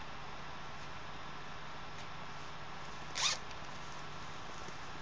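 A zipper is pulled once along a fabric knitting needle nook bag with an orange lining. It gives a single short, close zip in an otherwise quiet room.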